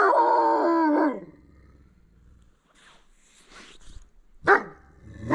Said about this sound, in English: when they bark like that and howl, that's probably the alpha